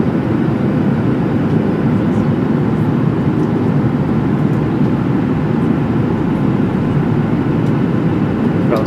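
Steady, loud cabin rumble inside a passenger jet taxiing toward the runway on a London to Hyderabad international flight, a continuous broadband roar with no talk.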